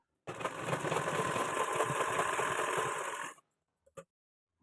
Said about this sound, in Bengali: সম্পূর্ণ সোজা বরাবর সেলাই করে নেব